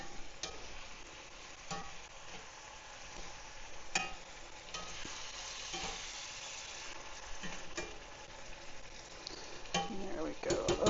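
Meat pie filling with Worcestershire sauce cooking in a pan, a soft continuous sizzle with occasional stirring scrapes and small pops, fairly quiet and steady throughout.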